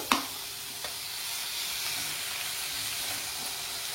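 Masala frying with onions and tomatoes in a pan, a faint even sizzle and hiss after one sharp knock of a utensil at the start, close but quiet.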